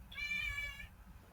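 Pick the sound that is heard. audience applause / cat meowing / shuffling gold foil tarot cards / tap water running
cat meowing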